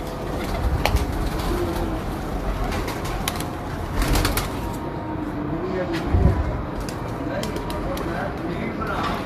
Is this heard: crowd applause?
no